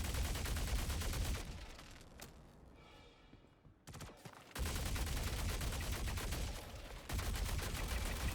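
Enemy gunfire in the video game Star Citizen, dense rapid bursts of shots that drop away briefly, then return as loud sustained firing, with no talking.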